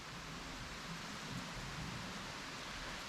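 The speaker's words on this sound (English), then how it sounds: "because it started raining slightly." Light rain falls outdoors at a campsite at Mission Tejas, a soft, steady wash of faint patter with no voices.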